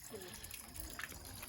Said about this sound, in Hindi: ये देखिए पानी चल रहा है